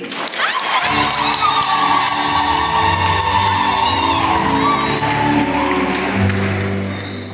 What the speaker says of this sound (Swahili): Tunawapongeza sana, makofi mengi zaidi.